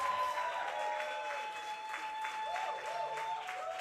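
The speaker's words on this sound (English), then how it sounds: "a last round of applause for them" Steady applause from a crowd, continuous and fairly loud throughout, with a few faint voices mixed in.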